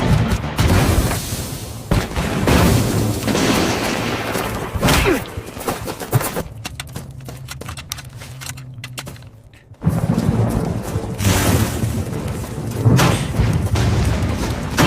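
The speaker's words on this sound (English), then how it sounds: "The explosions here are actually very nice and realistic" AI-generated loud booming explosions and heavy thuds roll in bursts, with a brief quieter stretch in the middle before the blasts resume.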